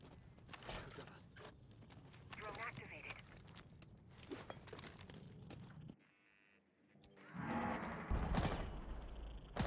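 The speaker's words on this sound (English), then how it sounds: "I do see some exchange of gunfire." An exchange of gunfire in the video game Rainbow Six, with quick sharp shots and clattering bursts mixed with game sounds under steady commentary talk, a brief lull, then louder action.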